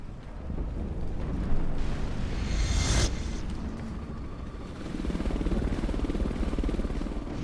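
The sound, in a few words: helicopter in the video game Metal Gear Survive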